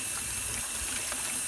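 Water runs steadily from a kitchen tap into a sink, a continuous close gushing wash with no voices over it.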